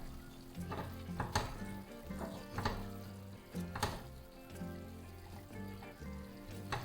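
Chicken pieces sizzle and fry in a pan for butter chicken, with steady crackling broken by several sharp scraping clacks as the pieces are stirred and turned over. No talk.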